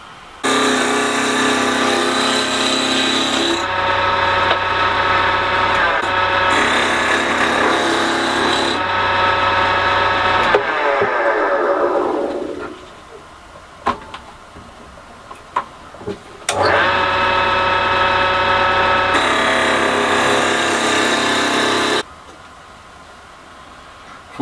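A wooden workpiece for a toy car spins on a wood lathe in a small shed, with loud sustained rasping cuts that stop and restart several times, broken by a quieter stretch with a few sharp knocks.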